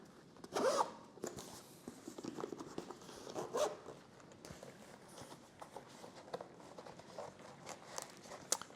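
The zipper on the front pocket of a camera carry bag is drawn open, giving short rasping zip strokes in bursts with faint handling noise between them.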